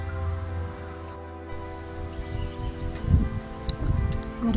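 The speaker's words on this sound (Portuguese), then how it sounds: "Ó, tá ventando bastante." Gusty wind buffets outdoors, a low rumbling roar that swells and drops, growing rougher in bursts toward the end.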